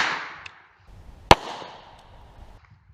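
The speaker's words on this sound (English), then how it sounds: "this one will be 230 grain full metal jacket, 45 ACP, out of the Colt model 1917 service revolver" A single sharp gunshot from a Colt Model 1917 service revolver firing 230-grain full metal jacket .45 ACP at a Polish Wz93 Kevlar helmet, one loud crack near the middle, preceded by a fainter pop and followed by a short fading tail.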